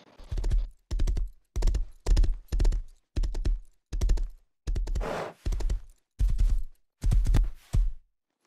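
Horse hooves in the survival game Rust on console, a series of about ten heavy, evenly spaced clip-clop thuds up close, with no talk over them.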